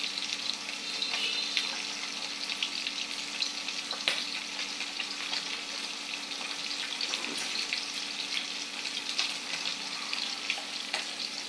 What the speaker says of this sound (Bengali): ট্যাংরা মাছগুলো ভাজা হয়ে গিয়েছে।